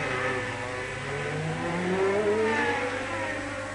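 Porsche 962 race car at the 1991 Le Mans 24 Hours, a steady engine drone with a rising then falling pitch as it passes, loud and continuous with no talk.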